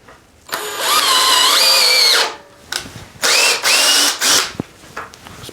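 A Ryobi 18V cordless drill whirs up to speed at second speed in two long bursts, its pitch rising and holding steady, then a few short quick triggers follow.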